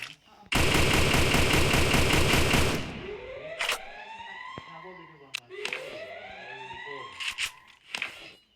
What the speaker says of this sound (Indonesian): Zion Grace Killer di sini ditembak oleh Ra Killer